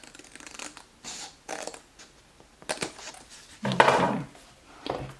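Several short bursts of snipping and paper rustling, close by, with a louder crisp cutting stretch near the end.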